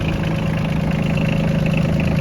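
A small Yanmar diesel engine in a Mitsubishi GCR18 mini tractor idles steadily and smoothly with a low, even chugging hum, close and continuous.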